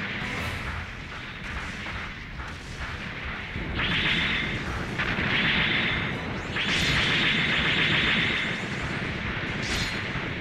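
Explosion blasts in the mecha combat game Mobile Suit Gundam Online, on the Taklamakan ruins map. Muffled booming fire opens, then several long, loud, roaring detonations follow in sequence, with sharp bursts at the ends.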